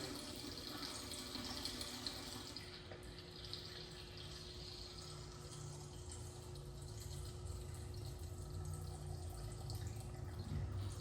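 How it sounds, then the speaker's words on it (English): Water pours steadily into a film developing canister for Hasselblad 120 film, a soft continuous splashing trickle with a low hum underneath, faint and unbroken throughout. "Pour the water in."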